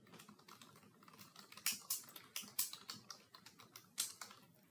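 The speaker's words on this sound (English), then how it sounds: "Type in your email address into the email address field" Someone types an email address on a computer keyboard, producing a quiet, close run of crisp key clicks in uneven bursts that pick up pace toward the end, heard alone.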